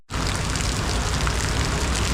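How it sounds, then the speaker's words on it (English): Heavy typhoon rain in Manila pours in a loud, constant roar that starts abruptly and continues unbroken, with no voices over it. "It is raining cats and dogs."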